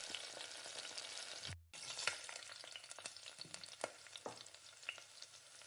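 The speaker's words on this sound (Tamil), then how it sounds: "வெங்காயம் கட் பண்ணி வச்சுருக்க வெங்காயத்தை சேர்த்து நல்லா வதக்கி விடுங்க" Chopped onions sauté in a hot pan with fennel seeds, dried red chili and curry leaves, giving a steady close sizzle with scattered stirring scrapes and a brief break partway through; no one speaks.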